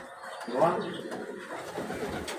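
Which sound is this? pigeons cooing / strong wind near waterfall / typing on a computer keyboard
pigeons cooing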